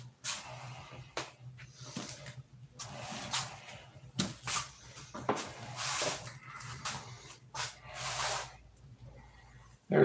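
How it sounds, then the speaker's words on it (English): A paint sprayer loaded with paint heavily thinned with thinner hisses in repeated short bursts of varying length, close by and fairly quiet, with pauses between sprays. "It's spraying out of there because it's thinner."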